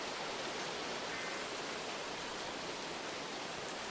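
Steady, dense rain hissing continuously in a storm-chasing video game, a broad even wash of noise with no breaks or voices.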